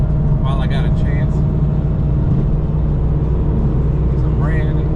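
Cars driving past on a road trip flyby, a continuous loud engine and road rumble close by, with brief voices talking over it.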